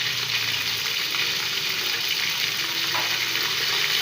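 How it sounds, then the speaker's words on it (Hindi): Meat for saag gosht sizzles in a hot frying pot, a steady, loud, dense crackling hiss that continues without a break and with no voices. "अब इसके बीच में गोश्त ऐड कर रही हूँ"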